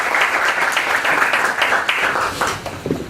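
Audience at a bar association event in Lima gives loud, dense applause, a steady close-up clapping that carries on for several seconds.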